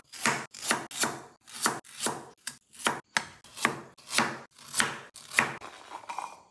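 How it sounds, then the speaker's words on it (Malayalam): Ginger being chopped with a knife on a board, about a dozen distinct, crisp, close thuds at a fairly even unhurried pace, each stroke separated by brief silence. "ആദ്യമേ ഉണ്ടല്ലോ നമ്മൾ ഇഞ്ചി നന്നായിട്ട് അരിഞ്ഞെടുക്കുവേ"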